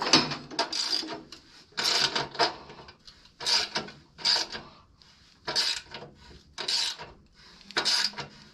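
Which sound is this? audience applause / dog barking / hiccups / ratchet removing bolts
ratchet removing bolts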